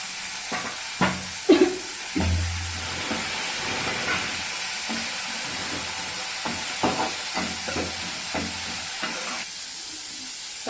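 Tomatoes sautéing with onions in a pan for a greens and lentil curry, a steady sizzle and hiss with intermittent stirring scrapes and clanks, close and moderately loud, no talking.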